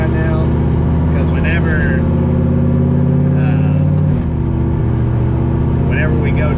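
An Oldsmobile Cutlass engine running at a low, lumpy idle, a steady deep rumble close to the microphone that dips briefly partway through while someone talks over it.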